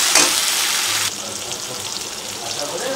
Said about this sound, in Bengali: দেখো তেলটা অনেকটা ছেড়ে দিয়েছে এবার আমি রসুন দিচ্ছি